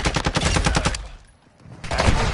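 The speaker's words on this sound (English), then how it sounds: "Taking effective fire." Rapid automatic gunfire in a Modern Warfare 2 online match, a dense burst of repeated loud shots for about a second, a brief lull, then another close, loud volley of shots.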